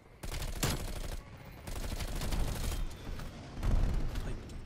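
Bursts of rapid automatic fire from the Bullfrog submachine gun in Black Ops Cold War, several sustained volleys separated by short pauses, loud and close, with a muffled voice briefly under the shooting.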